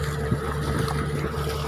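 Motorboat engine drones steadily as the boat travels across the sea off Coron, Palawan, with constant wind and water rush close to the microphone and no clear talk.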